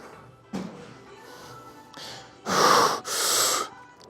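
A person breathes heavily, with a sharp snort-like breath early on and then two long, loud, rough exhalations close by near the end.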